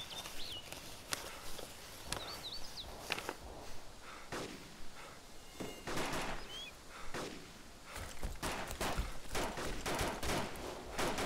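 Gunfire in the military survival game Arma 2 DayZ comes in scattered shots and bursts, including what may be a light machine gun, over a constant noisy background with rustling movement. The shots are fairly near and do not come at steady intervals.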